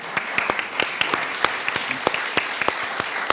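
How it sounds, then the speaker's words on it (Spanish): Audience applause for actress Daniela Vega at a university talk, a dense, steady clapping crowd with sharp individual claps popping out nearby, continuing throughout with no voices. "que le demos un fuerte aplauso a Daniela"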